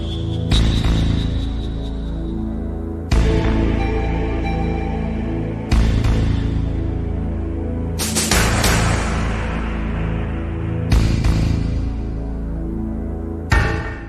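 A Metal Gear Solid game track, with heavy bass slams repeating every few seconds over a dark sustained bed, tense and loud with no voices.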